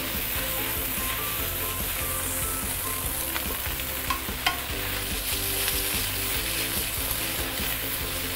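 Noodles and bihun stir-fried in an oiled wok for Singapore Hokkien prawn mee, a loud continuous sizzle with occasional scrapes and taps of the spatula against the metal, close up and steady throughout.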